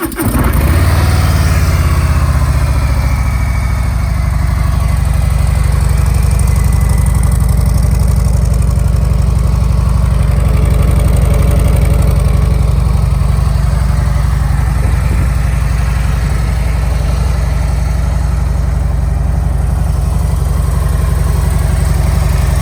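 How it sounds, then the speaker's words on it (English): A 2020 Harley-Davidson Softail Deluxe motorcycle engine runs steadily and loudly up close after starting, a deep, even idle rumble that holds for the whole stretch with no talk. "let's go ahead and start the bike so you can hear it run."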